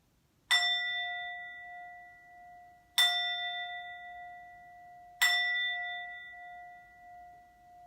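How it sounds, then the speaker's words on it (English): A singing bowl is struck three times, each a clear bell-like ring with a bright attack and a long, slowly fading hum, spaced a few seconds apart. "this is actually called a singing bowl"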